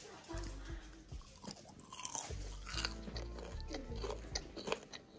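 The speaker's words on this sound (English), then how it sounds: "Listen to this crunch." Fried fish being bitten and chewed up close, a run of repeated crisp crunches in an uneven rhythm, with a voice talking faintly in between.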